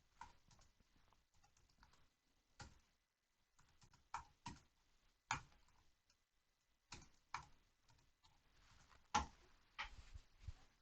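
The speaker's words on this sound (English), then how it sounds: "Now let's actually go in and type all of our values in." Calculator keys tapped to enter matrix values, quiet close clicks in irregular bursts with short pauses between presses.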